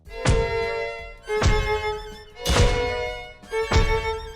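Masquerade tower skin attacking in Tower Defense Simulator: four sharp, loud percussive hits spaced about a second apart, each with a bright ringing tonal tail, alone with no talk.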